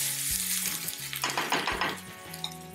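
Fish fillets frying in a pan with pesto, seasoned with salt and pepper, giving a steady close sizzle with occasional utensil scrapes and clinks against the pan, beneath soft background music.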